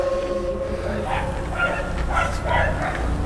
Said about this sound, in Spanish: Están ladrando los perros.